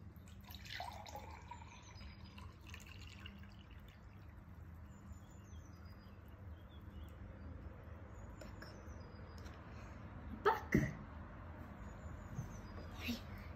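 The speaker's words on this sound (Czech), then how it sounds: "Takže sklenici naplníme vodou až po okraj." Water poured into a drinking glass until it is filled to the brim, with soft trickling and dripping throughout and a couple of sharper splashy bursts near the end, all fairly quiet and close.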